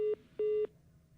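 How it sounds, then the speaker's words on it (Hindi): Telephone line tones during an attempt to connect a reporter's call on a Hindi TV news broadcast: two steady electronic beeps, a short one then a longer one, fairly clear and alone, followed by quiet line hiss. "चलिए फिर से अंकित से जोड़ने का प्रयास करेंगे, जोड़ नहीं पा रहे हैं।"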